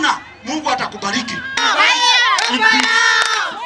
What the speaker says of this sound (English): And they cheer him on and on.